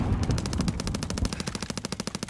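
Rapid automatic gunfire in a battle royale video game, a fast, even burst of sharp shots that grows more distinct toward the end, with no talk over it.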